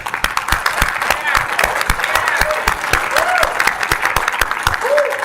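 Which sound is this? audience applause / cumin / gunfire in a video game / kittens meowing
audience applause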